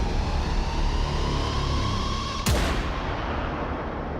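Gunfire in the game Warframe, a constant rumbling barrage of shots with a sharp impact burst midway, loud and continuous throughout.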